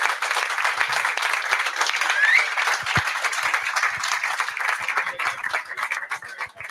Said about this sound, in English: Will you give a round of applause to Dane Massey, please?